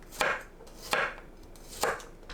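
Three evenly spaced knife strokes slice potatoes into thick strips on a cutting board, each a crisp, close thunk with a short sharp attack, with quiet gaps between and no voices.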